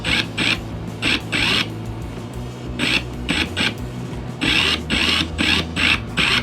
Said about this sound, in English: I'm going to pop my drill into low speed. You don't want to go fast.